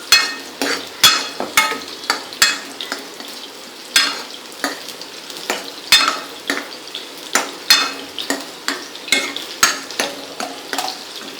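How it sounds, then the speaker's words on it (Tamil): Fish pieces sizzle in hot oil in a pan for fish masala kulambu, with a utensil repeatedly scraping and stirring against the pan in an irregular rhythm, close and alone. "ஸோ இப்போ பொரிக்கிற ப்ராசஸ் போயிட்டுருக்கு"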